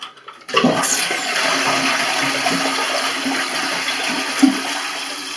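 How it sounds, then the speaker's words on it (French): A toilet flushes with a sudden loud rush of water after a flush valve membrane replacement, followed by steady hissing as the cistern refills. "Donc après vous faites un essai avec la chasse d'eau bien sûr"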